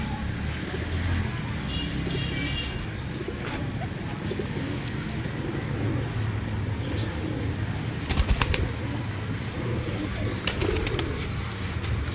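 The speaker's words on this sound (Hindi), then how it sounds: "रियाज भाई निकाल दें टैडी कबूतर जो है भाई।" Breeder pigeons kept by a fancier coo in a loft, soft repeated low calls over a steady background with occasional wing flaps and chirps, while a voice is faintly present.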